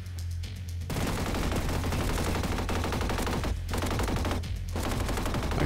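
G36C rifle fire in an energy assault shooter game, sustained rapid automatic bursts, loud and near, broken by a few short pauses between strings of shots.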